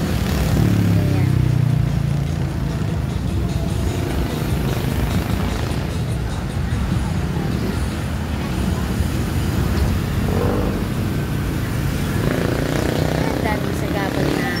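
Motorcycles and cars crawl past in crowded traffic on the eve of the town fiesta in Lian, Batangas, a continuous engine rumble and drone with voices talking over it.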